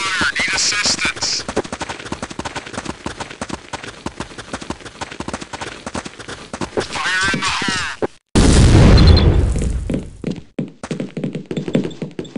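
Rapid automatic gunfire and explosive booms in Counter-Strike: Condition Zero on the Dust map, loud and dense for several seconds, then a heavy blast and scattered shots, with radio voice callouts mixed in.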